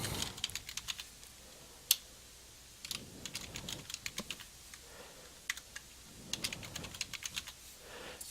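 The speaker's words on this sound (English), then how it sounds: "So type in the old password" Someone types a password on a computer keyboard. Quiet, close key clicks come in short irregular bursts separated by brief pauses.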